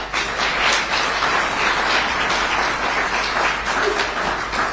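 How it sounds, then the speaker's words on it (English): An audience at a governor's press event on a criminal clemency program applauds, a steady wash of many hands clapping at moderate distance, sustained evenly throughout without a voice over it. "I was shamelessly fishing for applause on behalf of Lee Kelsey there."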